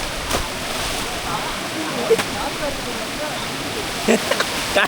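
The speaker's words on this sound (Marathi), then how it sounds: "हा धबधबा आहे" A waterfall in a Konkan village rushes as a steady, close broadband roar throughout, with a few faint splashes and knocks on top.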